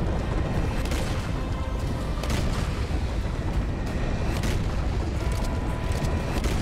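Cannon fire in the video game Serious Sam 4 as a dense, continuous barrage of heavy booms and blasts, loud and unbroken for the whole stretch with no talking.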